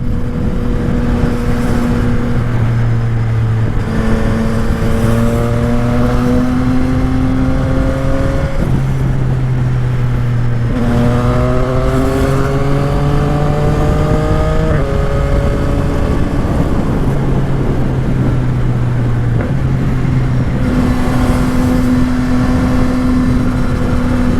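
CFMOTO 450SR motorcycle on the SLEX highway, its engine droning loud and close with repeated rising revs as it accelerates through the gears, steady wind rush underneath.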